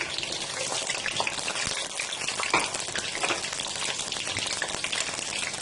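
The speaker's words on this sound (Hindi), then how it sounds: "और साथ ही हम इसमें प्याज डाल देते हैं" A steady, hissing sizzle of onions frying in hot oil, close and constant, with faint crackles and no voices.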